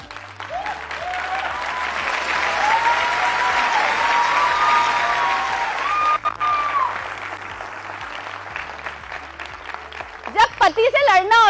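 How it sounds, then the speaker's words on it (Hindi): Sustained applause from a seminar audience, loud and steady for most of the stretch, with a few cheering voices rising above it and a voice breaking in near the end. "हमारी ताली कैसे बज रही है?"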